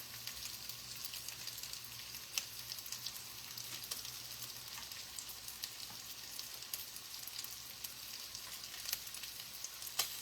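Egg and sausage frying on a griddle in leftover sausage grease, a steady, quiet sizzle with scattered crackles and pops running for about ten seconds, with no voices.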